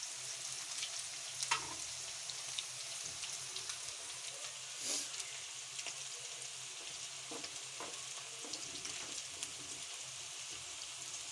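Cauliflower pieces frying in a pan hiss with a quiet, steady crackle, broken by a few soft taps and one brief louder spatter, all fairly faint and with no one speaking.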